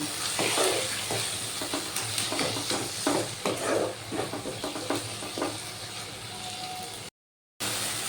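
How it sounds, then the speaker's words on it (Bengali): Ground turmeric, chili and cumin fry in oil for a fish-belly curry while being stirred hard, a constant sizzle broken by repeated scraping strokes of a spoon across the pan, with a brief gap near the end. "এবার আমি মশলাগুলো খুব ভালো করে কষিয়ে নেব"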